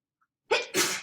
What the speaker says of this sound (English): Oh my gosh, I have to sneeze again.